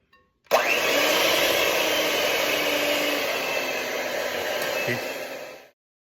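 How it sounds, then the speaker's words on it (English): An electric mixer runs at its lowest speed, whipping a fruit dip: a steady, even motor whir that starts abruptly and holds for about five seconds before cutting off, with no talking over it. "So now we're going to start mixing with our mixer, but always keep it at the lowest speed possible."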